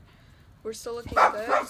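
Several dogs bark and yip indoors, a few sharp close barks overlapping someone talking.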